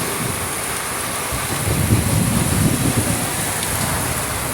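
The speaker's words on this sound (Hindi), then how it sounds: "ये नवंबर है, जून जुलाई अगस्त जैसी बारिश गिर रही है।" Heavy rain pours steadily during an out-of-season November ride near Lonavla on the way back to Mumbai, a dense, loud and continuous hiss that swells slightly partway through.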